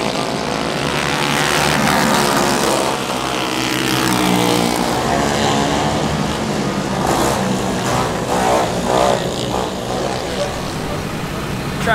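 Go-kart engines at a race event scream at high RPM, a loud, sustained, buzzing drone that swells and fades as karts pass, with no pause.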